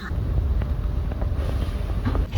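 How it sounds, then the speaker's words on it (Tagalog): Strong storm wind at an outdoor Christmas barbecue buffets the microphone in loud, rumbling gusts that roar continuously, with no one talking. "Sobrang lakas ng hangin."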